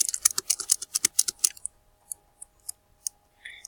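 A computer keyboard is rapidly spammed during a Roblox game, a fast burst of sharp clicks for about a second and a half, then scattered single taps and a short rattle, close and unaccompanied.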